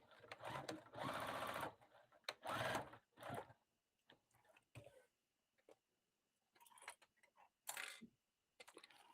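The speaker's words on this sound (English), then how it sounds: "Now I'm just going to baste the handles in place." Sewing machine basting handles onto a Crown Royal-style drawstring bag, running in short loud bursts of rapid stitching with pauses between. Soft clicks and faint handling noises fill the gaps.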